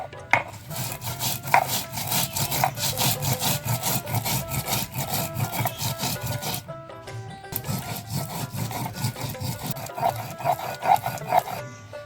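Cumin seeds are ground on a grinding stone in a rapid, rhythmic back-and-forth scraping and rasping, loud and close, pausing briefly midway before resuming.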